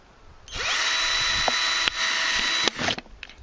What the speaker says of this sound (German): So vier, fünf Löcher reinbohren.